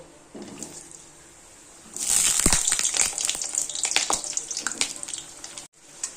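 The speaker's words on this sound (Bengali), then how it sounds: "প্রথম আলুগুলো একটু ভেজে নেব" Potatoes frying in hot oil in a wok, with a loud, steady sizzle and hiss that starts abruptly, carries crackling pops throughout, and cuts off briefly near the end.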